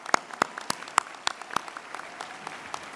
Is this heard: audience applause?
yes